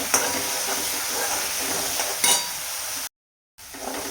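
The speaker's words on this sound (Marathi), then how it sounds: "सो मी अगोदर आलं टाकून घेते, त्याला 1 मिनिट अजून तेलामध्ये छान परतून देते आणि नंतर कांदा टाकायचा." Ginger, then onion, sautéing in hot oil in a kadhai for a spicy green-chilli masala rice. A steady sizzle runs close, with a few stirring scrapes and clinks. A brief silent gap comes near the end.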